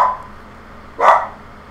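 Dogs bark indoors, off-mic and muffled, in two short bursts with a quiet pause between them.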